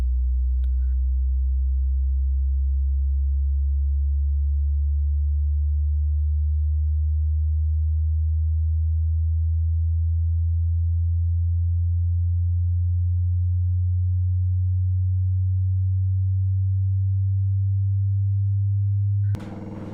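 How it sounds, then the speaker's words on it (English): A pure, steady low test tone between 50 and 200 Hz hums continuously for about twenty seconds, slowly sliding in pitch, alone with no other sounds. "This frequency is between 50 Hz to 200 Hz"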